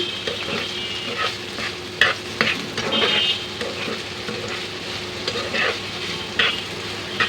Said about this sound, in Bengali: এখন এটাকে আমি নাড়াচাড়া করে নেব